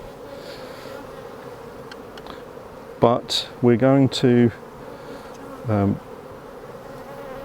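Honey bees at an open hive during a beekeeper's inspection of capped frames give off a steady, close buzzing hum throughout, with a voice speaking briefly in the middle.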